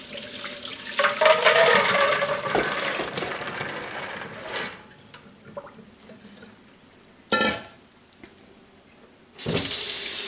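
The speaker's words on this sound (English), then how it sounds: "let's rinse the beans" Cold tap water runs and splashes over soaked black beans being rinsed, first in a long, loud gush, then in short stop-start bursts with quiet gaps between.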